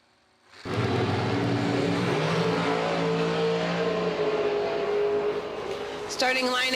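Drag racing dragsters roar off the line at a strip, a sudden loud blast of engine noise that surges and rises in pitch as the cars pull away, with a commentator talking over it.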